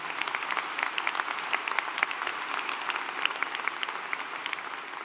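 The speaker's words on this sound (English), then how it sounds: "Please hold your applause" Audience applause at a fall university commencement ceremony at Clemson, a continuous wash of many hands clapping with distinct individual claps popping through, moderately loud and steady.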